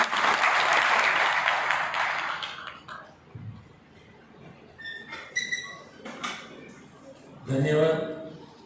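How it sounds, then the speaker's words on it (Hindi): An audience claps to welcome a guest at a gathering in Yamuna Nagar, a loud burst of applause for about two seconds that fades into quieter room sounds and scattered noises, with voices following. "उनके लिए स्वागत के लिए भी आप तालियां बजा सकते हैं"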